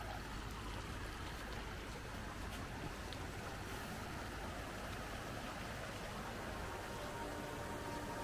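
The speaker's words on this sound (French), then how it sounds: "On est au bord de la rivière." Steady broadband rush of a river flowing past a riverbank, continuous and fairly close, with no voices over it.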